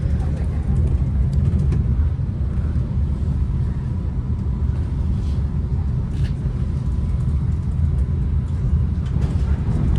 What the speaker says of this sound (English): There's our sister train, 424, passing by us.